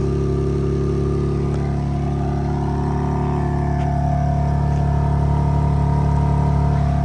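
Stock exhaust on a BMW G80 M3 Competition drones steadily nearby, the engine held at a constant rev with a smooth, unchanging hum and no voices over it.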